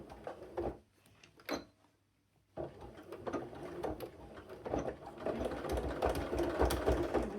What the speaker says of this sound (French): Et là, je viens coudre, j'y vais doucement